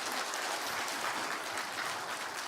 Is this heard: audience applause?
yes